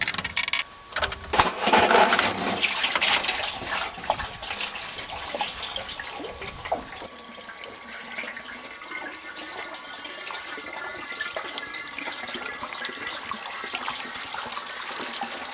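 Water from a village well in Transylvania splashes and pours loudly at first, then settles into a steady, quieter trickle and running flow close by, with no voices over it.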